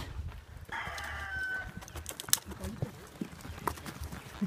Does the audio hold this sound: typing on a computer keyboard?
no